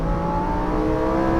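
A car engine roars loud and close at high revs on a race track at Lohéac, France, a brief, steady mechanical drone.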